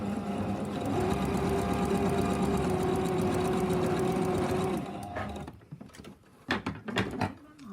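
A sewing machine stitches quilt binding strips, running in a steady whirring hum for about five seconds, then stops, leaving a few light clicks and handling sounds.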